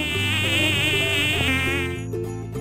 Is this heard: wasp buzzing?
yes